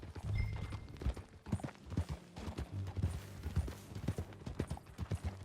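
Horse hooves clip-clop steadily in a ride through Red Dead Redemption 2, the hoofbeats close and rhythmic over a low rumble of movement.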